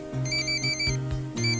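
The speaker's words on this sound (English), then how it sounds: "You might be able to hear my phone going in the background." A phone ringtone plays in the background while a fly is being tied, repeating electronic tones in two bursts with a short pause between them, fairly faint and with no talking over it.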